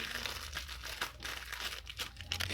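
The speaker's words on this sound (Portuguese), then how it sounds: "eu vou estar colando com essa fita" Tape being pulled and pressed onto homemade cardboard packaging: soft crinkling and brief tearing noises, close and fairly quiet, with no talking.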